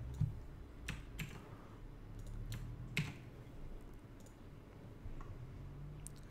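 Quick, light taps on a computer keyboard as an address is typed in, sounding as a few scattered clicks and short bursts of keystrokes, close and soft against a quiet room.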